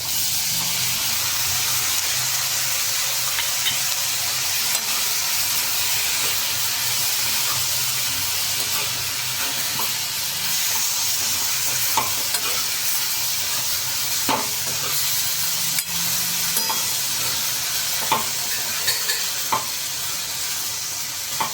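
Tomatoes frying in a pan for matar paneer sizzle with a constant loud, close hiss and crackle, broken by occasional sharp ticks of a spoon stirring and scraping against the pan.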